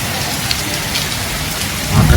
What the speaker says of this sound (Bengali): বাইরে বৃষ্টিটা হচ্ছে দেখো, মুষলধারে বৃষ্টি হচ্ছে